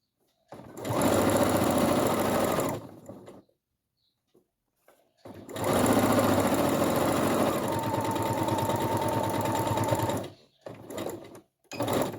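A sewing machine stitches fabric along the presser foot in two long, steady whirring runs separated by a brief pause, close and fairly loud, followed by a few short bursts of stitching.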